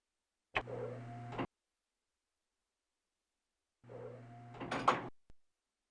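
An elevator in the Gabriel Knight video game gives two separate mechanical whirring runs, each close and moderately loud, with a sharp clunk ending the second.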